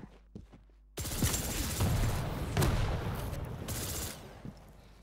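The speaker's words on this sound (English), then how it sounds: "I'm pretty sure that's the super nail gun" Rapid super nail gun fire in a Quake-style arena shooter, a dense sustained burst of metallic shots that starts abruptly and runs for several seconds, with other game effects mixed in.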